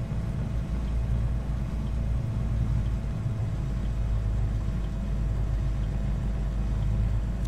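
An airliner in the Prepar3D v5 flight simulator rolling for takeoff, heard as a constant low engine rumble that holds steady throughout with no voices.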